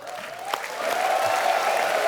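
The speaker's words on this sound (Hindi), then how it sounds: "सुनील पाजी के लिए जोरदार तालियां।" Studio audience applause on a comedy talk show, rising from a faint start to steady, moderately loud clapping over about two seconds.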